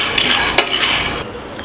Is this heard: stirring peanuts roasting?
yes